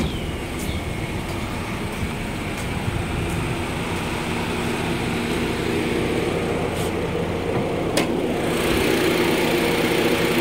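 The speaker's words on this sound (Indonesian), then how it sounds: "Oke, kita coba cek mesinnya." The engine of a 2009 Honda Jazz S manual idles with a steady, close mechanical hum, with a few light clicks and clatter over it.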